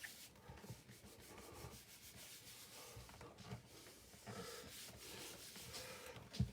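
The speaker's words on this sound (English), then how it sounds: "So if I take another sheet and rub that over the top." A sheet of paper is rubbed over an inked media plate for a printmaking transfer, giving a steady, close, scratchy friction hiss that continues through the whole stretch with small surges and a sharp knock at the end.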